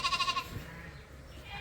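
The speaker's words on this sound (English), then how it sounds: "Sheep are jumping all over my back." A sheep gives a short, wavering bleat up close at the very start while animals crowd around someone, then only low, muffled farmyard rustling follows.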